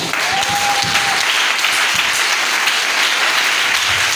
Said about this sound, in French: Est-ce que vous pouvez vous acclamer?